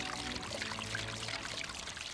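Steady flowing water pours and splashes beside a water wheel at a garden hobbit house, a continuous soft trickling stream without a clear rhythm.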